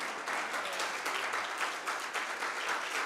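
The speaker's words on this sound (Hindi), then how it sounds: "स्टैंडिंग ओवेशन, क्या बात है" A concert audience at the Vikramotsav 2026 music festival rises for a standing ovation, dense sustained applause filling the hall from start to finish at an even, loud level with no voices standing out.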